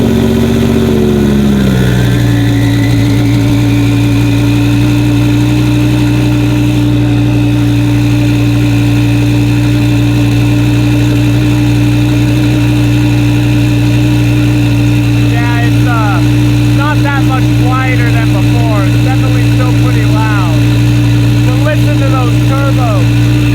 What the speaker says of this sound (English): first cold start with the brand new Sheepey Stage 1 twin turbo kit